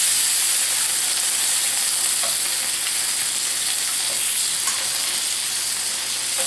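Streak o' lean salt pork frying in a pan, a constant close crackling sizzle with occasional pops and brief stirring scrapes, no talking.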